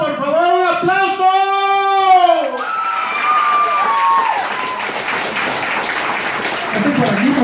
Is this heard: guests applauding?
yes